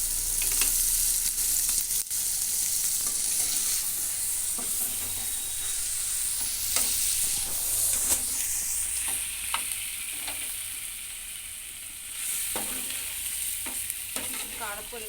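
Chicken curry with chili powder fries in a pan with a steady, loud sizzle and hiss, broken by occasional stirring scrapes and clinks throughout; no one talks.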